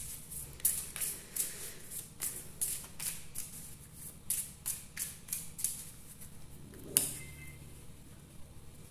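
Tarot cards are shuffled and drawn by hand, giving a quick series of soft flicks and taps up close, with one sharper snap near the end and no talk.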